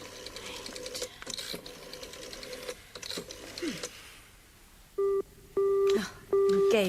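A telephone busy signal after dialing, three loud evenly spaced tone bursts, heard after a stretch of talking, handset clatter and dialing clicks.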